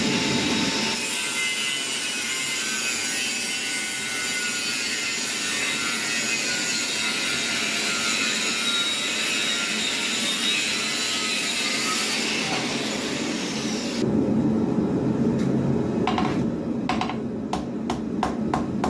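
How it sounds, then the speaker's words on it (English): Six-inch angle grinder with a cutoff wheel cutting a steel bar for a forged full-tang knife, a continuous high shrill whine for most of the clip, then stopping into a few short clatters. "I use an angle grinder with a cutoff wheel. I think it's a 6-inch angle grinder."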